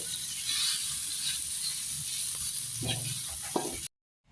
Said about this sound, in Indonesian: Masak capcay: ada wortelnya, ada daun, ada bunga kol.